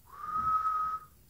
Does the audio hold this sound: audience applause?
no